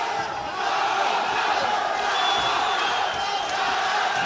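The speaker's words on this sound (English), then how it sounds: "The crowd are shouting Samanda." An MMA fight crowd roars and chants the fighter Samandar's name in a dense, continuous wall of shouting that fills the arena and holds steady throughout.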